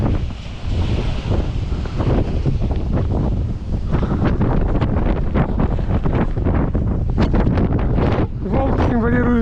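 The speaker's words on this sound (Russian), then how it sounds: "Ветер тут стоит сильнейший." Strong wind gusts across an open hilltop near a mausoleum on a motorcycle trip, roaring continuously and buffeting the microphone loudly, with someone speaking through it.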